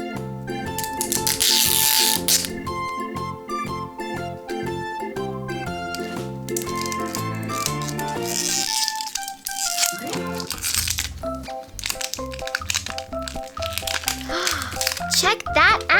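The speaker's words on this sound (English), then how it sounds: "Let's unzip." Toy packaging crinkles and crackles as a surprise toy bag is opened, heard under loud background music that dominates throughout.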